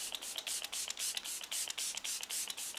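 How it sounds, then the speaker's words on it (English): Kat Von D Lock-It setting spray hisses from a pump bottle in about a dozen quick, even bursts, each a short airy spritz close to the face, steady in rhythm with no talk. "now I'm going to take the Kat Von D Lock-It Setting Spray"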